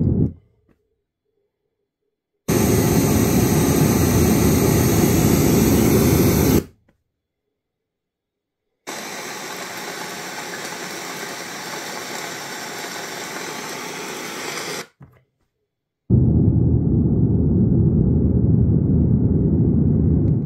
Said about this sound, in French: un signal de test